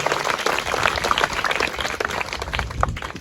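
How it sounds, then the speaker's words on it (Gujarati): A crowd claps for teachers at a Teacher's Day celebration in a government secondary school in Jetda, a dense, steady applause that stays at an even level throughout. "સેલ્યુટ માટે જોરદાર તાળી ઉતારી લો ભાઈઓ"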